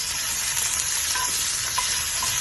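Steady, close sizzling of food frying in hot oil for a South Indian lunch, a continuous crackling hiss with faint stirring clinks and no voices.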